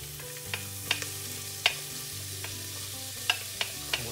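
Onion, potatoes and garlic fry softly in a pot, a low steady sizzle broken by a few sharp clicks and taps from stirring.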